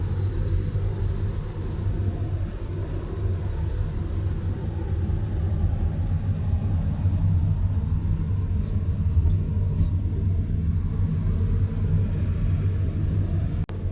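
Infiniti FX35 cruising on a highway at about 70 mph and 2000 RPM while towing 5300 lbs, a steady loud low engine and road rumble that holds evenly throughout, with no talking.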